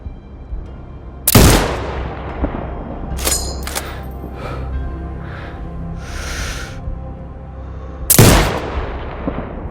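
Sniper rifle shots in Sniper Ghost Warrior Contracts 2, two loud, sharp cracks about seven seconds apart, each with a booming tail, separated by quieter mechanical clicks and rustles.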